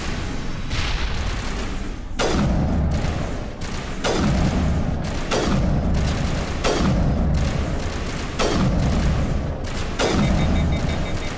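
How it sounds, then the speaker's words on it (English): Repeated heavy grenade blasts and gunfire from the Mass Effect 1 Legendary Edition game, a series of loud booming explosions roughly every two seconds over continuous rumbling combat noise, with no talk. "Okay, grenade please."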